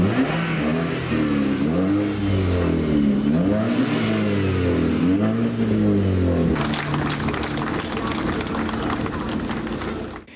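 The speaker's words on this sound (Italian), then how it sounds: "È il frastuono dei motori delle auto tuning modificate" Loud revving engines of modified tuning cars outside a church, with rising and falling roars blending together, then a dense rumbling crowd of engines, and voices mixed in.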